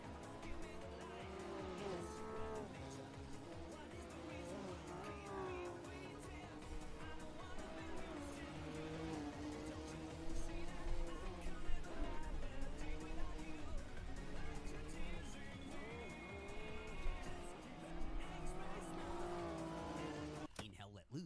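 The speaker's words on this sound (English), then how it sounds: "next level anime drifting" A car drifts in the heavily modded racing game Assetto Corsa, its engine droning and revving continuously with long tire squeals, mixed under game music and a voice talking.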